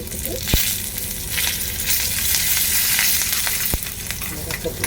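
Loud, dense sizzling of tempering spices with asafoetida hitting hot oil for rasam, a constant crackling hiss with two sharp metallic knocks, no talking.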